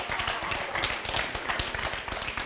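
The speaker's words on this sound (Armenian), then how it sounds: "եկեք ծափարենք հարգարժան ամուսիններին մեզանից աջ" A studio audience on an Armenian talk show applauds the guests, a dense, steady patter of many hands clapping close and fairly loud, with no voices.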